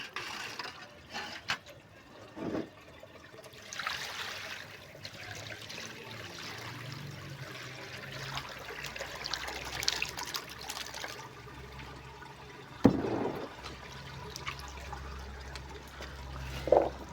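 Tap water running steadily while olives are washed, a soft continuous trickle and pour up close with occasional clatter of handling.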